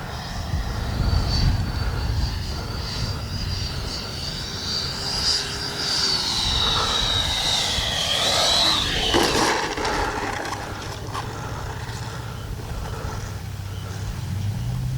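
A Flyfans MiG-25 RC model jet passes overhead with a steady high whine that rises and falls in pitch as it flies and comes in to land, heard continuously from moderately close outdoors.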